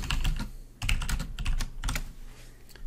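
Close, rapid typing on a computer keyboard, a quick clatter of key taps in uneven bursts with brief pauses between them, no voices.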